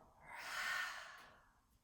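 A single deep yoga breath, a soft, airy exhale that swells and fades over about two seconds, close and quiet with no talking.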